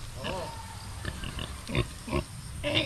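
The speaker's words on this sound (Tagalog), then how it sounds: "Alagang baboy yan dito." A domestic pig on a copra-making farm in Barangay Walay, Quezon Province, gives several short grunts and oinks at close range while people talk nearby.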